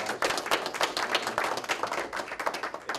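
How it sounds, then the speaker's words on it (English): Audience clapping at a traffic safety and crime prevention community seminar, a lively continuous patter of many hands, close and fairly loud throughout. "I think they deserve a round of applause for their efforts and the time that they put into this as well"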